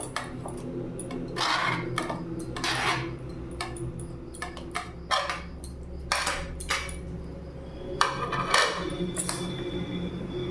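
Fried paneer tips into a pan and gets stirred, with repeated metallic scrapes and clinks of a spoon against the pan in an irregular rhythm, close and moderately loud.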